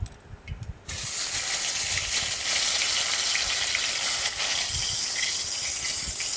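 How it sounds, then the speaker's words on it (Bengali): Chopped tomatoes hit hot oil tempered with black cumin, bursting into a loud, steady sizzle and hiss that starts suddenly and keeps frying evenly throughout. "কুচনো টমেটো দিচ্ছি"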